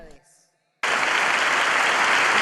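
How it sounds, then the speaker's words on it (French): Sudden burst of loud, dense applause from a church congregation during a sermon, starting after a brief quiet gap and continuing steadily to the end, with a little speech just before it begins. "Et que cet applaudissement soit pour dire que oui, et ce ne soit pas pour dire non"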